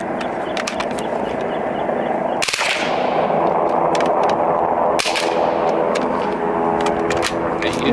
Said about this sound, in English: I am being sprayed with shards of lead from these dirty Vortex pellets.